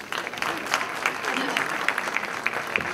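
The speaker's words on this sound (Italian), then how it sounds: "Un applauso veramente di incoraggiamento e in bocca al lupo" An audience at a music talent show claps in brisk, scattered applause, a short burst of many hands at moderate loudness.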